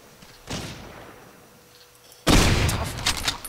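Gunfire in the World War II shooter game Hidden & Dangerous 2. A distant blast rolls away, then a much louder, closer volley of shots and rumbling explosions follows. No voices are heard over it.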